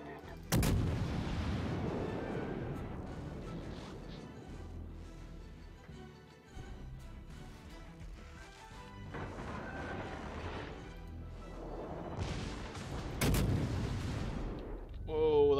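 Heavy naval gun salvos fire at a destroyer in World of Warships, a loud booming blast opening, then rumbling echoes and further distant and near shots spread across a sustained battle din.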